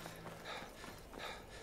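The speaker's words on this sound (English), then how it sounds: "Is that a horse?" Hooves clip-clop from a horse in Skyrim, a short run of soft, muffled steps heard faintly under a dense wash of ambient game noise.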